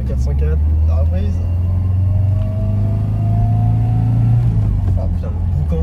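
A Peugeot 404 car accelerates with a loud, steady engine rumble heard from inside, the pitch rising slowly while a voice speaks over it.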